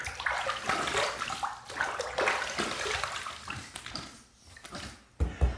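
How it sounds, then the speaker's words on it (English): Water is poured out and dumped into a wet-shaving setup, making a loud, close splashing and sloshing that runs for several seconds, then thins to trickles and a few final splashes. Nobody speaks. "let's just take this water and just dump it in there like that"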